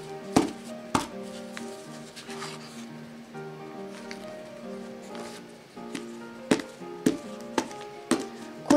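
Mini aluminum loaf pan of freshly baked butter milk bread knocked against a surface, sharp hard thumps, a couple early and a cluster of several near the end, over faint background rumble and scattered light clatter.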